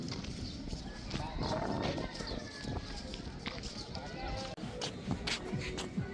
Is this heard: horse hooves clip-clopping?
yes